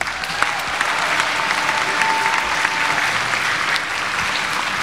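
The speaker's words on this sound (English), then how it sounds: "Let's give an applause to our wonderful students." An audience at a school Easter music celebration applauds students in a hall, a dense, steady wash of clapping lasting several seconds with no speech over it.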